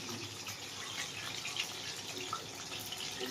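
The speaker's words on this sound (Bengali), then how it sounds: "গরম পানি দিয়ে দিন।" Hot water is poured in a home kitchen, a steady, fairly faint splashing stream that runs continuously, with no voices over it.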